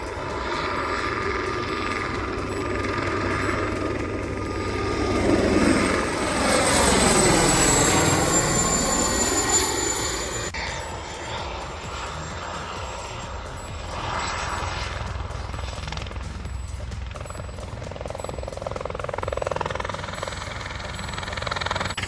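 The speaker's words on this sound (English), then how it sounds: "So, your own personal helicopter will fly just like this." A two-seat personal kit helicopter flies past, its rotor and engine drone swelling loudly as it nears, a sweeping pitch shift as it passes, then a steady rhythmic rotor chop continuing at a distance.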